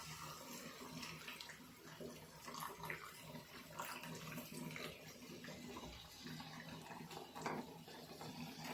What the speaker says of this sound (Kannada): ನಾನು ಇದಕ್ಕೆ 1 ವಾಟೆ ನೀರು ಹಾಕ್ಕೊತೀನಿ